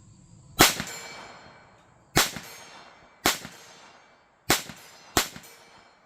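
Freehand shots from a Sig Sauer P322 .22LR pistol strike a steel gong 50 yards out. Five loud cracks land at irregular intervals, each followed by a metallic ring that fades slowly, with no talking.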